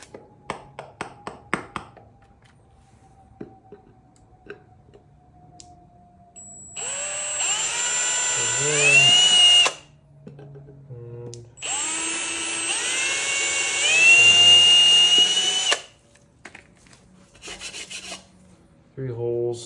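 A power drill bores into wood for a wooden step stool in two long loud bursts, each whining up to speed and grinding through, separated by quiet handling clicks and taps, close and with no talking.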